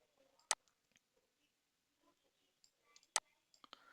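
Two sharp, isolated mouse clicks sound up close in a quiet room while a computer program is being operated, with faint soft rustles and small ticks between them.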